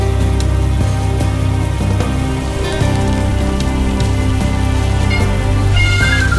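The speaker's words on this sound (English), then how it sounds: "Slop, mud, and torrential rain is thrown at us right off the bat" Torrential rain during a motorcycle ride in Slovenia, a dense, loud, steady patter of drops striking surfaces, with no voices.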